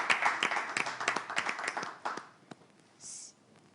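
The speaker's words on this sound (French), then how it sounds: "nous accueillons notre candidate avec des applaudissements plus nourris" An audience at a semi-final show applauds a candidate, a brisk run of claps for about two seconds that fades to a few isolated claps, followed by a brief hiss.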